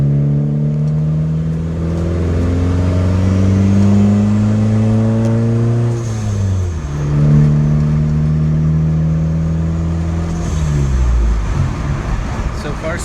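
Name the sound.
repaired vehicle driving off on a test run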